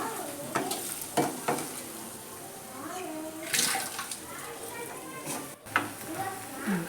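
Egg rice is stirred and fried in a pan, with a soft sizzle and scraping stir strokes under a woman's speech throughout.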